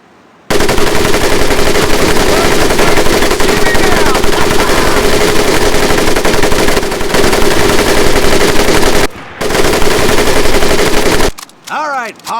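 Sustained, loud machine-gun fire in the WWII shooter Medal of Honor Pacific Assault, a dense continuous burst lasting over ten seconds with a short pause near the end, then a few trailing sounds.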